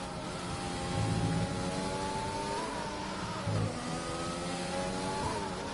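A race car engine in the F1 2020 racing game drones steadily at high revs, with slight pitch rises and dips, heard faintly and alone with no voices.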